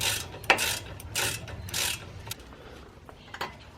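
Close ratcheting and rasping as a ratchet tightens the brake caliper bolts on a Saab 9-5 during a brake replacement, in short uneven bursts of mechanical clicking.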